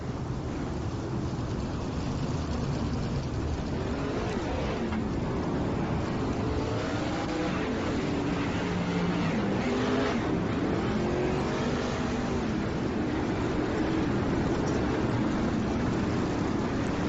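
410 sprint cars roll around a speedway as a pack, a continuous low engine drone with slight swells as they pass, steady and somewhat distant, with no talk.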